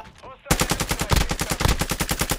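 Rapid automatic gunfire from Call of Duty: Modern Warfare II, a dense string of loud, close shots firing steadily for about two seconds after a brief quiet lead-in.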